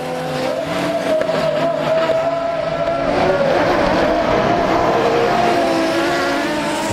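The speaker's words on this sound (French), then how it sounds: "En tourisme libre, le départ est très disputé" Touring race cars roaring off the line together at the start of a free touring race, a loud dense engine blend with rising revs and a faint tire squeal, close and continuous.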